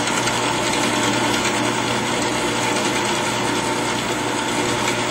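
A JET bandsaw runs with its blade at full speed, giving a steady, continuous mechanical whir with a constant motor hum, loud and unchanging throughout with no talk.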